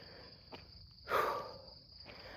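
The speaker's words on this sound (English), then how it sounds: "You hear them crickets?" Steady high-pitched cricket chirping in a quiet outdoor setting, with a brief louder rustle or thud in the middle.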